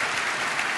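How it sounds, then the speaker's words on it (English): Audience applause after a senator's talk at a Bitcoin policy event, a dense, steady wash of many hands clapping at once, loud and close, filling the whole short moment without any voices. "One more round of applause for Senator Hagerty."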